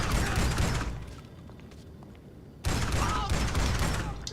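Shotgun fire in GTA 5 Online, two long, dense bursts of loud blasts separated by a quieter gap, close and harsh, with faint background game noise between them.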